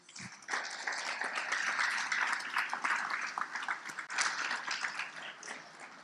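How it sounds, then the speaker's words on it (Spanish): A church congregation gives loud, sustained applause for Jesus, a dense, continuous patter of many hands clapping together for about six seconds, briefly dipping and then surging again near the end. "Vamos a dar un aplauso fuerte a Jesús"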